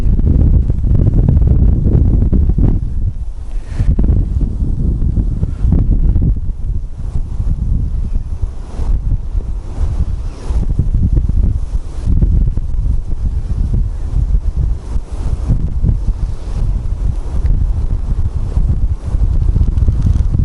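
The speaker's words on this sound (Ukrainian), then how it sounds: "вітер задуває сьогодні." Steady wind buffets the microphone during winter pike fishing near Kyiv, a loud low rumble with gusts rising and easing throughout, no voices.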